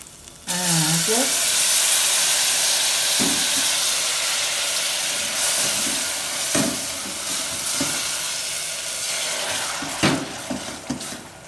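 Water poured into a hot pan of sizzling seasoning for green corn soup, a loud burst of hiss and steam that settles into bubbling with clinks of stirring.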